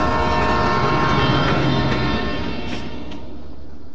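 A train pulling away from a small rural station, a steady broad rumble with a low drone that slowly fades and thins as it recedes, no voices over it.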